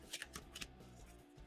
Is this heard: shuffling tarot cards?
yes